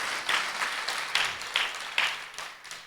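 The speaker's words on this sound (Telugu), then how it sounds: "ఎవరు హృదయంలో ఉన్నారు వాళ్ళు మాత్రం కొట్టండి." A church congregation claps together in steady rhythmic bursts, loud and close, about two claps per second, fading slightly toward the end with no talk over it.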